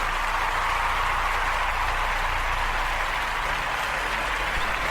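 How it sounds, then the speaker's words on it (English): A small audience gives warm applause to welcome a guest from the UK, a steady wash of clapping that carries evenly through the whole moment with no voices over it. "Everybody give a good warm applause for Spooks."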